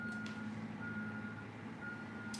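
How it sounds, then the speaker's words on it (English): A construction machine backing up somewhere outside sends out steady, evenly spaced reversing beeps that sound faint and distant over a low background hum. "that dreaded construction machine just has to be beeping away all day"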